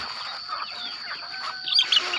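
Chickens cluck and chirp at a rural village, soft intermittent calls at close range over a steady high whining tone, with a louder burst of clucks near the end.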